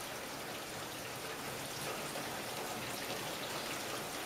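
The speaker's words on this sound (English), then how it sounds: "Is it raining?" Steady rain falls outdoors, a dense, even hiss of drops spattering on surfaces that holds constant throughout.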